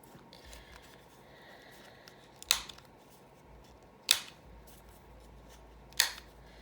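Scissors trim an altered paper clip craft piece in three crisp, close snips spaced a couple of seconds apart, with quiet room tone between.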